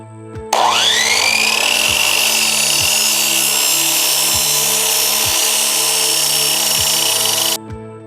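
A power tool whines continuously while trimming a rolled intercooler pipe on a Mazda B2200 mini truck turbo build, with a loud sustained cutting tone and several sharp clicks along the way.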